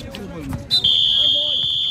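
A brief clatter and voices at a basketball game, then a loud, sustained electronic game buzzer tone that holds steady to the end.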